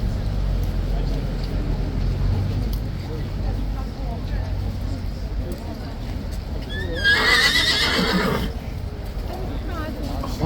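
A King's Guard horse at Horse Guards in London lets out one loud, wavering whinny near the end, rising above steady outdoor crowd noise, people talking and faint hoof clatter.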